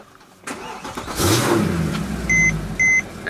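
A Mercedes car engine cranks and catches after battery rewiring, a close rising whir settling into a steady idle, followed by two sets of electronic beeps from the dash, no talking.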